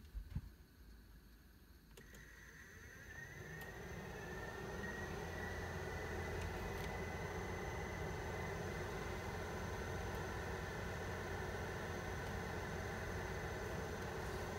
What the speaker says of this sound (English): that's got to be like that because I've got a fan on.